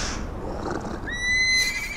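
A horse whinnies loudly in the video game Tokyo Jungle, one rising, wavering neigh that swells and then cuts off, standing alone with no talk over it.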